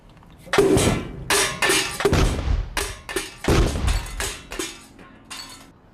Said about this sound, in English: a laboratory demonstration of a dust explosion with household flour, a candle for the ignition source, and a 1-gallon paint pan for confinement